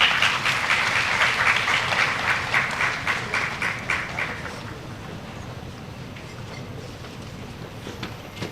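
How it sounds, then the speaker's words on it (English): An audience at a university day ceremony applauds award winners with loud, rapid, massed clapping that gradually thins out and fades into scattered claps and room noise. "Can we have a round of applause for them?"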